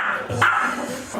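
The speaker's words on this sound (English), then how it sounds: "he'll bark at you for ages" A dog gives a short bark or yelp close by, with steady background noise around it.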